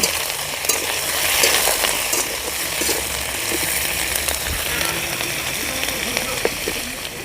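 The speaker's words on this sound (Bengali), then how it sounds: "আলুর সঙ্গে টমেটোগুলো ভালো করে ভেজে নেব" Potatoes and green tomatoes fry in a pan with a constant, dense sizzle and some stirring noise, and a voice murmurs faintly underneath.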